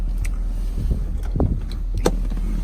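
A BMW 323ci's 2.5-litre inline-six warming up at idle, a steady low rumble close by with a few brief clicks and taps over it.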